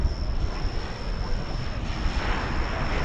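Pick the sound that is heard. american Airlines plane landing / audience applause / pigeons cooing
american Airlines plane landing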